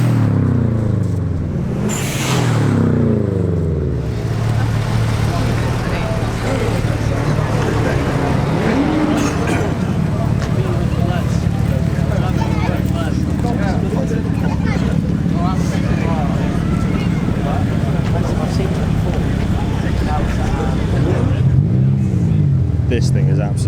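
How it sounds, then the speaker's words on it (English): A BMW E60 M5 Touring engine revs and drives past at a street gathering of tuner cars in a Surrey village, a loud rising then falling roar under steady crowd noise, with people talking nearby throughout. "That was an E60 M5 Touring."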